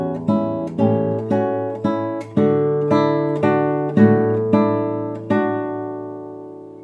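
Classical finger-style guitar playing a waltz passage, clear plucked notes and chords struck in a steady three-beat lilt, each one ringing and decaying, played alone and close with the final chord left to fade.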